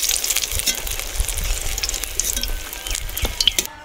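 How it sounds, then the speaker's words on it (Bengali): Eggplant slices frying in oil in a wok, a loud, continuous close sizzle with crackling and occasional stirring scrapes throughout. "আমার বেগুনও ভাজা হয়ে গেছে, এবার বেগুনগুলো আমি কড়াইয়ের থেকে তুলে নেবো থালাতে"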